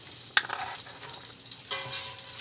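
Pork and ham being stirred in a hot frying pan, a steady sizzle broken by a sharp utensil clank near the start and scraping stirs, with no talk.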